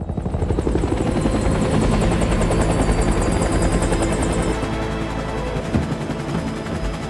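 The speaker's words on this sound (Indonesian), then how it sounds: "tiba-tiba saja Raja Alpha yang ternyata belum meninggal loncat dan masuk ke dalam helikopter." A helicopter in a scene from the film Army of the Dead (2021) roars loud and close, its rotor thumping steadily with a high whine on top, running without a break.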